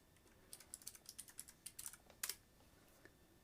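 Quiet, close typing on a computer keyboard: a quick run of light key clicks, then a brief pause and a couple of harder final taps, with no talking.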